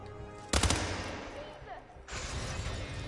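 Video game gunfire: a sharp loud burst of rapid shots with shattering impact, followed by a decaying tail and a second noisy blast of sustained firing.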